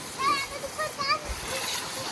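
Pressure-washer water spraying and splashing over a mud-covered Mahindra Thar, a hissing splatter heard under a child's chatter and other nearby voices.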